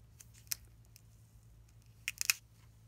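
Hard plastic marker casing being cut open with an X-Acto knife, a few sharp isolated snipping cracks, one early and a quick cluster near the end, close and quiet.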